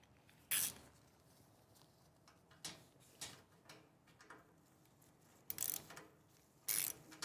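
A part on a SawStop Professional cabinet saw with a 52-inch T-Glide fence and 3.0 HP motor is tightened during assembly, giving a few sharp ratcheting clicks and metallic ticks spaced apart over a quiet room.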